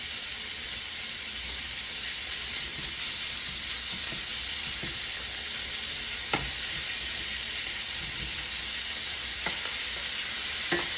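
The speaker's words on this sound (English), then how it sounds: "I'm gonna cook the pancetta." Pancetta fries in a pan for ragù alla bolognese, a constant bright sizzle up close with a few sharp taps and scrapes of a utensil, no talking.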